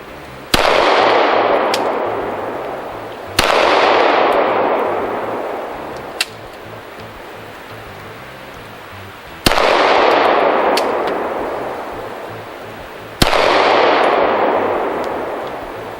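Four loud, sharp pistol shots from a REX zero 1S handgun fired double action at an indoor range, spaced a few seconds apart, each cracking hard and then decaying into a long, booming reverberant tail.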